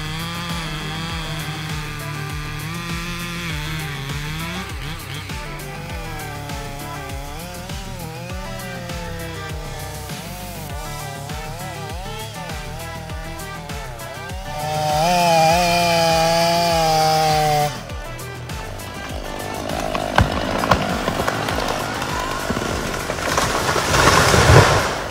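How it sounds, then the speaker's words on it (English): A big chainsaw running at high revs cuts through tree wood for winter firewood, its loud engine whine rising and falling in pitch as the chain bites, followed by a brief rougher burst near the end. "With a rotation speed of about 2400 revolutions per minute, the chainsaw's cuts become very sharp."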